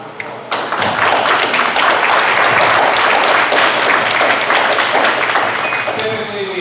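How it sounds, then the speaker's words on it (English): Steady round of applause from a board meeting audience, dense continuous clapping that starts abruptly and holds loud and close for several seconds without talk. "please give them a round of applause."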